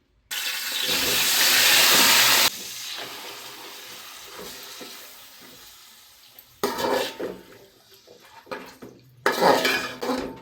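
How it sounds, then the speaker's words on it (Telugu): Marinated chicken hits hot oil and ghee in a pot with a loud burst of hissing sizzle, then fades to a softer fry broken by clattering bursts as pieces are stirred and moved. "ఇప్పుడు మ్యారినేట్ చేసుకున్న ఈ చికెన్ని ఆయిల్లో వేసి వేయించుకోవాలి."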